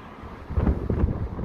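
Strong wind buffets the microphone at a beach in Sea Bright, New Jersey, in low, gusty rumbles that swell and drop over a brief moment, close and loud with no voices.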